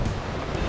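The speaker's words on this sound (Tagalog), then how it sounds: "napakalakas ang alon ngayon" Strong ocean waves at the Gulugod Baboy / Mabini coast roar as a continuous broadband wash, with wind buffeting the microphone.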